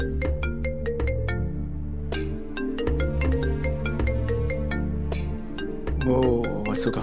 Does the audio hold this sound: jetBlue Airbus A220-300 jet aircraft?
no